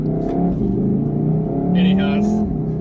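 A 2019 VW Golf R in race mode drives with its engine humming and climbing in pitch from inside the cabin, while someone talks over the engine noise.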